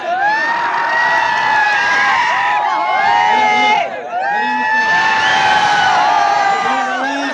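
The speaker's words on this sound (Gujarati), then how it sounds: "આ જેટલા પણ ઇન્ફ્લુએન્સરો છે એમના માટે જોરદાર તાળી થઈ જાય" At a cooking-oil shop opening event, a large crowd keeps up loud continuous cheering, whistling and shouting with clapping mixed in for celebrity influencers, with one brief dip in the middle.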